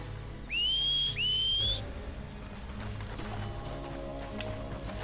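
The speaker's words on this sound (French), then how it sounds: "le cheval, il faut le siffler sur la route" Two sharp rising whistles call a horse in the video game Red Dead Redemption, loud and back to back, followed by a low muffled game ambience.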